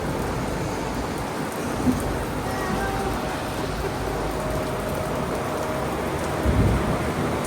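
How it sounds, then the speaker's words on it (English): Steady rain falling outdoors, soaking a Jeep during an engine-swap project, a dense continuous hiss with a couple of brief louder bumps and no talking. "The rain causing a delay."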